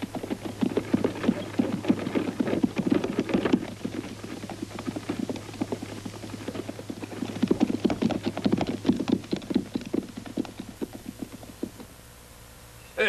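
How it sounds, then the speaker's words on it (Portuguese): Hooves of a group of approaching horses clip-clop rapidly and unevenly, forming a dense, busy patter that stays fairly loud throughout, then thins out toward the end. "como conseguiu ouvir os cavalos"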